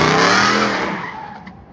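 Supercharged 2015 Ford F-150 with a 5.0 V8 pulling hard in first gear, a loud, close engine roar with rising pitch that swells at the start and then steadily fades over under two seconds.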